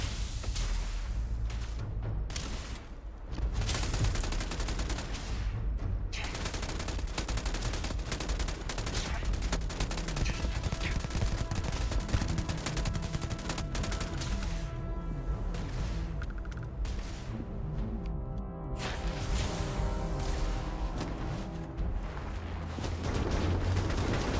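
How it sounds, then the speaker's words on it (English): Sustained, dense gunfire fills a Starfield firefight, with rapid automatic bursts and overlapping shots rattling continuously at high volume, backed by heavy low rumble and no pauses. "Who else is shooting at me?"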